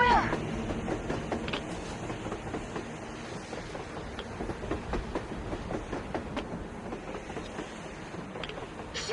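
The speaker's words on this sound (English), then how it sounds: "A damn train on the surface!" Train rumbling along on the surface in the Metro Exodus video game, a continuous clattering roar with rhythmic clacks and metallic knocks throughout, loud and close, with voices talking over it.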